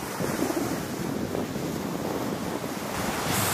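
Ocean waves on a palm-lined Brazilian beach at Barra de Sao Miguel, low tide with rock formations offshore, a continuous rushing surf wash mixed with blustery wind buffeting the microphone, with no voices heard.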